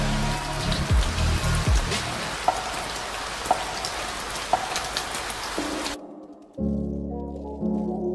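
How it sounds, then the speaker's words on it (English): Heavy rain pours down in a steady, dense wash with a few low thuds early on, then cuts abruptly to a quieter scene with a low hum. "a heavy rain started pouring down"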